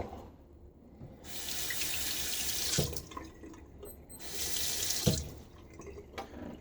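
Tap water gushes steadily into a sink in two long bursts, with a pause and a couple of clinks between them.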